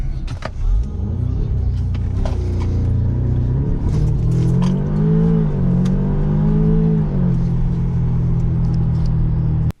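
A VW Golf R / Audi TTS MK2 with a hesitation fault accelerates, its engine droning steadily from inside the car, the pitch climbing unevenly and briefly faltering before rising again.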